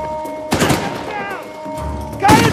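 Sniper gunfire from the video game Uncharted 4, with a sharp burst at the start and another near the end over a steady game backdrop and music.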